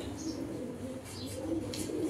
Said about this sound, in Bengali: এটা ভাই মাদি কবুতর ভাই।